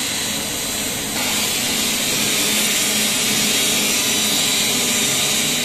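An Aotai ATIG 315 PAC digital AC/DC inverter welding machine powers on, its steady broadband fan hiss stepping up in loudness after about a second and holding constant.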